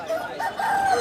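A rooster crows at a busy market selling local country chickens, a single loud close call that rises and holds, with faint background noise.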